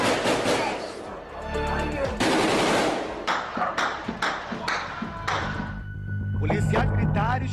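An exchange of gunfire at a housing complex in Queimados, Baixada Fluminense, recorded by residents: rapid bursts and single sharp shots, some loud and close, others duller, coming in irregular clusters across the recording.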